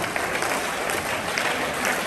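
Steady, dense applause from an audience at a university event in Nigeria, a continuous wash of clapping with no voices on top.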